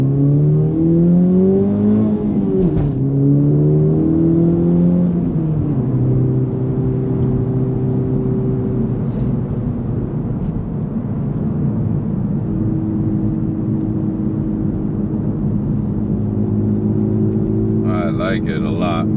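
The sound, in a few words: AWE Touring aftermarket exhaust on FL5 car revving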